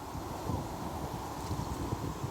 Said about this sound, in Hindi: काफ़ी तेज़ हवा भी चल रही थी।